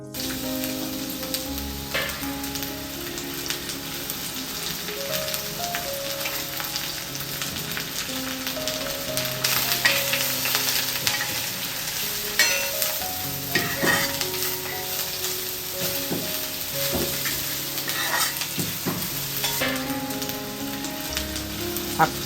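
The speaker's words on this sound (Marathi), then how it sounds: "1 चमचा तेल घालून, तेल थोडं गरम झालं की साल टाकायची" Ridge gourd peels fry in a spoonful of hot oil for chutney, giving a steady close sizzle with frequent scraping and clinking as they are stirred in the pan, and no talk.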